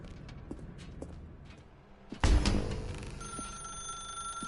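A telephone rings in a video game inside a dark room, the ring starting loudly partway through after faint footsteps, then settling into a steady sustained tone.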